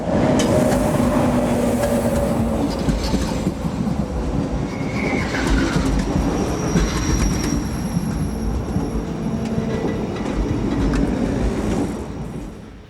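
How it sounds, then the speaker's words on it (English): An Austrian Class 1014 electric train runs along a single-track passenger line, its loud rolling rumble passing nearby with wheel squeals and clattering rail joints before fading out at the end. "Austrian state railways operate an hourly passenger service along the single track line to Sopron, using Class 1014 electrics."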